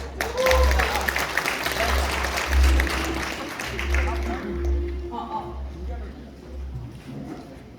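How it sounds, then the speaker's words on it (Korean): An audience claps for a speaker at a sponsors' event, the applause loud at first then thinning and fading, with talking voices mixed in. "박수."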